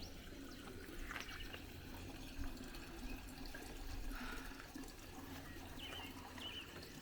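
Water runs from a tap while containers are filled outdoors, a faint steady splashing and gurgling with a few small bumps and clinks, no talking.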